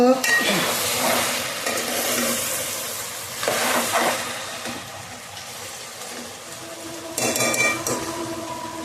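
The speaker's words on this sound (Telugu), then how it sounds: "చక్కగా అన్నీ కలిపి బాగా ఉడుకుతూ ఉన్నాయండి" Beef, brinjal and potato curry bubbles in a pot, a continuous moderate sizzle and simmer with occasional louder bursts of stirring and pot clatter.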